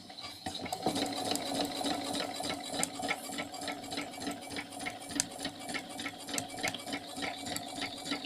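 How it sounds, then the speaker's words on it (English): A sewing machine stitching a cushion, a close, rapid, even mechanical chatter that runs steadily throughout with slight rhythmic pulsing and no talk. "So now carry on sewing."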